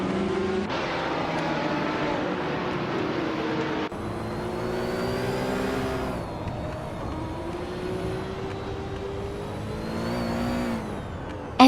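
A 1970 Porsche 917K race car engine in a racing video game, its loud, steady whine rising and falling in pitch through repeated gear changes with no break.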